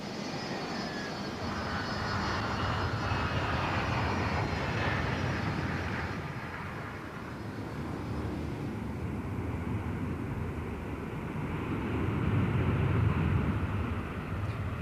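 Concorde jet engines roaring steadily throughout, a loud continuous broadband rumble and whine that swells slightly toward the end, with no talk.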